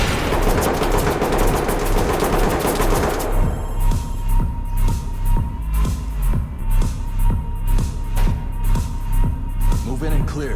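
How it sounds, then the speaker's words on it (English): Rapid automatic gunfire inside a nightclub in the tactical shooter Ready or Not, loud and sustained bursts with sharp repeated cracks that thin into spaced shots after a few seconds, with voices under the shooting. "Being shot at, and I don't know where from."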